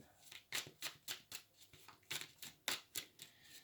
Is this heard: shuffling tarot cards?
yes